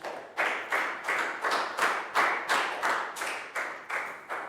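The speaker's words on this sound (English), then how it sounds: "So round of applause for Net 2, guys." A classroom of Year 3 pupils claps in a steady, rhythmic unison beat, about two claps per second, close and fairly loud with no talking over it.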